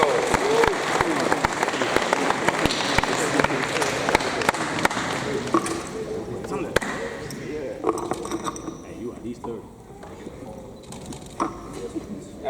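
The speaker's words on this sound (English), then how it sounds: "Everybody clap it up for them, please." A crowd at a youth sports award ceremony applauds the under-12s, with lively clapping that thins out partway through while voices talk and call out over it.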